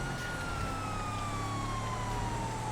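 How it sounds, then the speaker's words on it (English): Police sirens wail continuously in GTA V, a sliding electronic tone over steady engine noise during a race, moderately quiet. "I could have disabled the sirens on these, I forgot."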